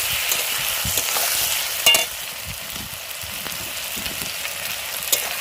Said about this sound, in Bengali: আর এই যে এখানে কড়াই পেঁয়াজটা ভাজে দিয়ে দিয়েছি।